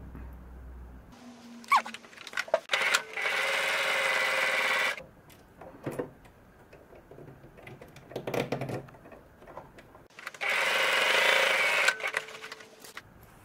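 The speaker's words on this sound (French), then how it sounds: "maintenant je vais venir surpiquer ici à on va dire 2 mm du bord" Domestic sewing machine topstitching fabric about 2 mm from the edge beside a zipper, running in two sustained whirring bursts, with shorter stitching runs and handling clicks between them, close and loud, no talking.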